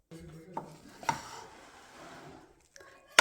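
Green and orange boondi sweets being mixed together in a home kitchen for a prasad offering, heard as close scraping and clattering with a few sharp knocks, no talk.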